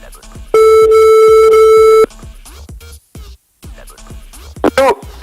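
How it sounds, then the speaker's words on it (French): A telephone line rings on a French radio wake-up show as the host calls a television presenter and writer. A loud, steady electronic tone sounds for about a second and a half over faint background sound, followed by clicks and brief line noise. "Nous appelons Rémi Castillo."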